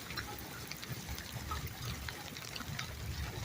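Steady rain from a passing squall line patters and trickles outdoors, a dense, even hiss of drops and running water with no clear breaks.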